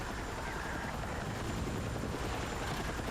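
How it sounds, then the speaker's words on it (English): Helicopter flying in the video game Battlefield 6, a steady dense rotor and engine roar that fills the whole clip at constant loudness with no talk over it. "Is that you flying a helicopter?"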